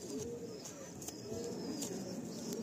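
Madrasi old line pigeons in a loft give soft, repeated low cooing, faint and close, with light background rustle and no clear talk.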